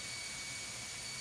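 Steady, loud broadband roar of a ro-ro ship's engine room, with the main engine and its two large turbochargers running under a big overhead exhaust pipe, droning evenly with no pauses or voices.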